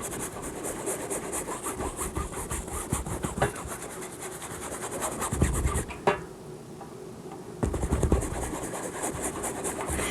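A large number 12 bristle brush scrubs paint onto canvas for an aqua blue seascape, with big broad strokes. A steady, close, rasping scrub of back-and-forth strokes runs on with one short pause and no voices.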